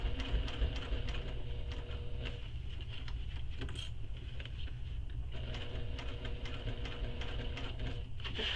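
A sewing machine runs steadily, stitching binding through several layers of a crossbody bag, a continuous close motor hum with rapid needle clatter throughout.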